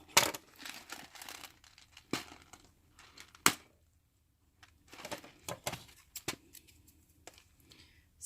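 Crinkling, tearing and crackling of tape being pulled from a container, in sharp irregular bursts separated by short quiet pauses, close and fairly soft.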